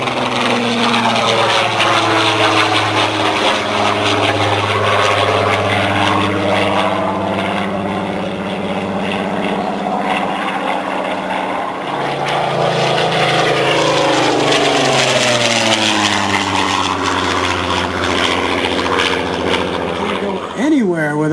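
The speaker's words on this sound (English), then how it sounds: "Here he comes in from the left again with a Spitfire Mk18." A Supermarine Spitfire Mk18 flying past at an air display: a loud, continuous propeller engine drone that swells and shifts in pitch as the aircraft passes, with a commentator speaking over the roar throughout.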